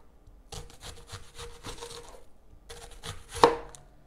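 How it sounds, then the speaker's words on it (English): A knife slices a yellow onion into thin slices on a cutting board, a close, steady series of crisp chopping taps in two runs with a brief pause between them. "Then we're going to cut our onion into just some nice thin slices."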